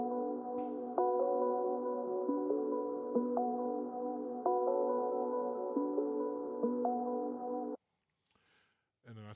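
Looperman sample loop playing in an FL Studio beat, sustained layered chord tones with soft percussive hits repeating in a steady pattern, ending abruptly followed by brief noise.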